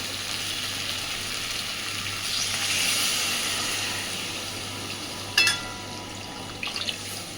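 Water poured into a hot pan of pumpkin curry, a sizzling, rushing splash that swells and fades, followed by a few sharp clinks near the end.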